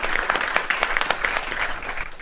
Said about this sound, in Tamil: எல்லாருமே பலத்த கைத்தட்டல், பலத்த கைத்தட்டல்